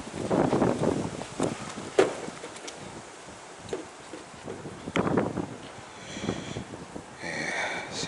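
A cold north wind blows hard on a clear 15-degree night, buffeting the microphone in uneven gusts and rumbles with soft rustling between them.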